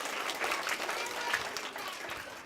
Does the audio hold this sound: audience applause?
yes